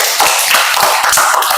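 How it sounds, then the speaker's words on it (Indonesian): Loud, close clapping from a group of students in a classroom for a classmate, a dense burst of overlapping hand claps that fills the short moment. "Tepuk tangan untuk Ferry."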